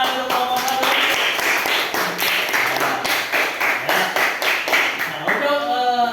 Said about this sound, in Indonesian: silakan beri tepuk tangan untuk kelompok 1